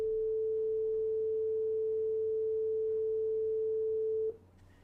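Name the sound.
sine wave tone generated with NumPy in Python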